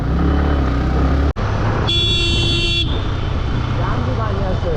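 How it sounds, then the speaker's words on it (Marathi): Busy road noise in a Navi Mumbai traffic jam, with engines rumbling close by and a sustained car horn blaring in the middle of the congestion. "फुल ट्रॅफिक जाम झालेली आहे इथे"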